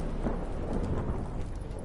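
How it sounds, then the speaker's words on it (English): Heavy rain and wind lash a boat at sea during a thunderstorm in The Witcher 3, a dense steady roar with low rumbling throughout. "Didn't bargain for no storm."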